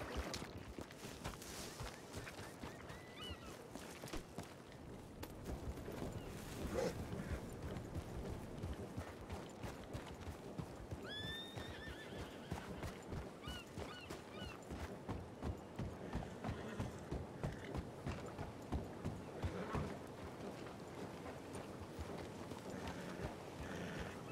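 Horse hooves clip-clop in a steady rhythmic trot in a Red Dead RP video game session, fairly quiet and continuous, with a few brief whinnies and soft background sounds.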